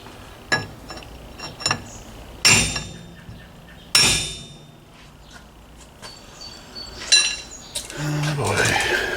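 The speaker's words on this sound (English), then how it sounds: "Let me grab a hammer and a punch." Sharp metallic hammer strikes on a punch against a broken bolt in a Pontiac rear end, several spaced blows with ringing clinks and quieter taps between, close and loud, with some shuffling after.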